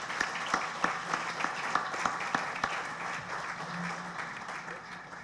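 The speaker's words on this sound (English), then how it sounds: "please join me for a round of applause for Marquez Colson and Malcolm Jenkins." Applause from an audience at a talk welcoming two speakers to the stage, fairly quiet and distant, with individual claps standing out in an irregular rhythm over a soft room murmur.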